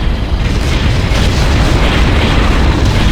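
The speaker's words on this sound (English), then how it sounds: "Area targeted for bombardment." Artillery bombardment explosions in the real-time strategy game Ground Control, a loud, dense wall of booming blasts and rumble that runs unbroken for several seconds with no voices.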